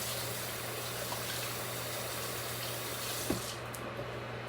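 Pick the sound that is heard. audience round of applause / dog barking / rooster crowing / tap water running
tap water running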